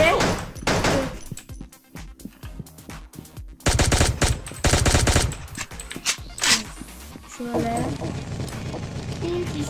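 Gunfire in the video game Pixel Gun 3D, bursts of rapid automatic shots in clustered volleys with short gaps, mixed with game effects and a voice talking over parts of it.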